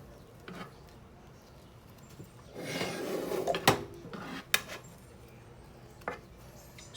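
An offset spatula spreads and scrapes homemade marshmallow flat in a pan, giving a soft rubbing scrape that builds for a second or so, with several sharp metallic taps and clinks of utensils around it.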